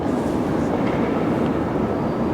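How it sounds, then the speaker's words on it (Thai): A train pulls into a platform at Antwerp station, giving a steady loud rumbling roar of wheels and cars that fills the whole stretch without pause. "รถไฟจะวิ่งมาจอดที่ชานชารานะคะ ฝั่งนั้นก็จะเป็นรถไฟมาจอดที่ชานชาราเหมือนกัน"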